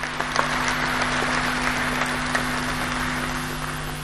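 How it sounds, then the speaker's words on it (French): An audience at a film festival opening ceremony claps steadily through the hall, a moderate wash of applause over a constant electrical hum, with no voices standing out. "Applaudissons pour nos ministres de la culture."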